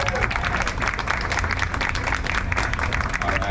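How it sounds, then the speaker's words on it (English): An audience at a hospitality and food-and-wine event gives a warm, steady round of applause, dense clapping sustained at an even level throughout. "So please give a warm round of applause for Tom Johnson."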